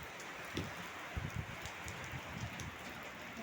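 Heavy rain falls in Kuwait, a steady wash of drops on surfaces with scattered louder splats and a gusty breeze, fairly faint and with no talk.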